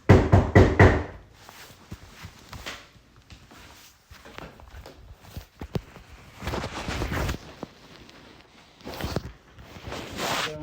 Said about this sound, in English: They knock on the door and the student answers.